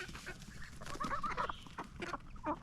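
Chickens cluck and murmur softly in short, scattered bursts, close by and fairly quiet.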